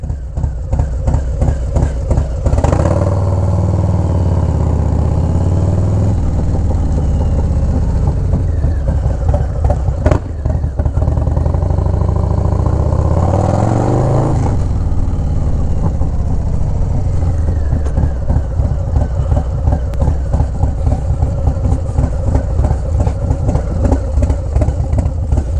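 A Harley-Davidson Low Rider S with a 122 Screaming Eagle stage 3 engine rumbles loudly with a deep, lumpy V-twin pulse, revving up twice to a roar and settling back to a throbbing cruise throughout.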